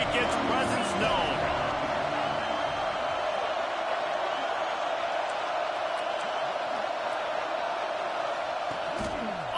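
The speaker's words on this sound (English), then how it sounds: "This crowd ready to make its presence known." A large football stadium crowd roars in a dense, sustained wall of noise that stays loud and constant for nearly ten seconds, with no break in the din.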